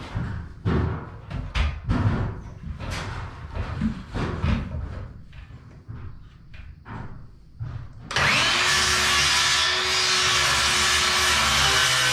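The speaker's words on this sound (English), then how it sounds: "All this little cordless saw will do is a 50." Small cordless circular saw cutting a bevel during bathroom work: scattered knocks, rubs and handling sounds first, then the saw spins up into a loud, steady high whine for the last few seconds.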